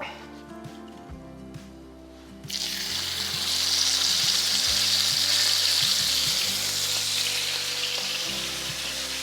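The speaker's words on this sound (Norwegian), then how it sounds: "Og så lar vi den bare stå der og frese seg i fred og ro." Beef steak dropped into hot, smoking oil in a pan: after a few quiet seconds with a low hum and a faint voice, a loud, steady hiss of sizzling bursts in and holds for the rest.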